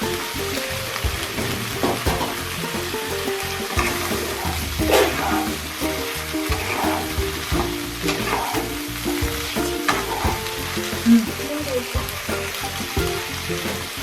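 Fried eggplant, pointed gourd and boiled potato go into a pot of cooking lentils, bringing soft sizzling and stirring clatter with scattered splashes and knocks, close and moderately loud.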